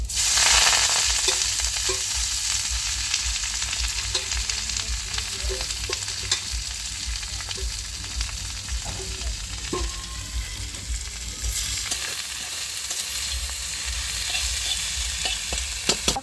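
Gourd leaves fry with garlic in a pan, giving a loud, steady sizzle close by and occasional stirring scrapes, with no talking.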